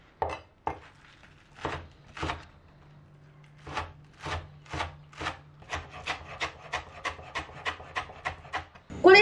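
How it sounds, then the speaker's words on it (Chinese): A knife chops washed scallions into small rings on a wooden board: a series of crisp, close, sharp thuds, slow and spaced at first, then speeding into a steady, even rhythm, with no talk. "全部切成小葱花备用。"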